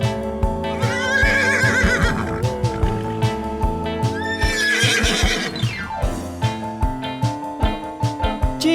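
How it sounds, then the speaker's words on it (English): A horse neighs in two long, shrill whinnies that rise and fall, loud and near, set against a bouncy backing beat of music. "horse,"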